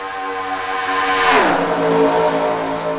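An iRacing race car from an AI-driven NASCAR-style field at Daytona roars past close by, its engine pitch climbing as it approaches and dropping sharply as it pulls away, loud and unaccompanied by talk.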